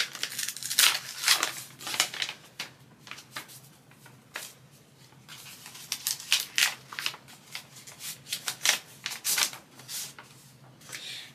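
Paper envelope of mail being torn and opened by hand, with repeated close crinkling, rustling and ripping bursts across the whole stretch and no talking.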